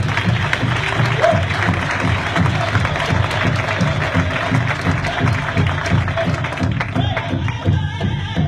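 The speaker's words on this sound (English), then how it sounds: "Let's give our veterans a round of applause," Sustained applause from a crowd honoring veterans, steady clapping that fills the room for the full length at a constant level, with scattered cheers and murmurs of voices mixed in.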